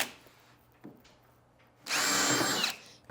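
A power tool sands wood in one loud, steady burst of about a second, a harsh rasping whir that starts abruptly and stops, with quiet handling sounds before it.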